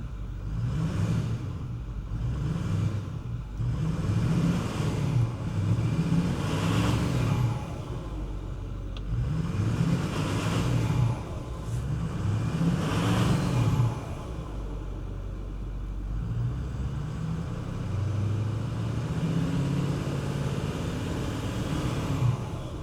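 A Ford Power Stroke diesel truck engine runs unevenly instead of settling to a proper idle, its low rumble rising and falling in repeated surges for over twenty seconds, close and steady, with no talk over it.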